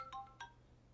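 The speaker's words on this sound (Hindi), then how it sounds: "फलक की सास कॉल कर रही है" A phone rings in a Pakistani TV drama scene: two short melodic ringtone chirps, a beat apart, faint over low background hum.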